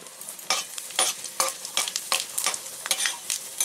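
Whole cumin seeds hit hot oil already holding bay leaves and dried red chillies, crackling and sizzling up close in a series of sharp, repeated bursts, with no voices.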